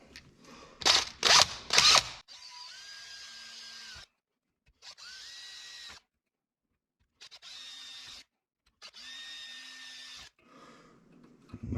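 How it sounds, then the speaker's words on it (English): A power drill whines in several short bursts separated by silences, after a few sharp knocks at the start; the tone rises as each bit bites through center-punched metal, drilling holes. "And now that they're center punched, we can drill."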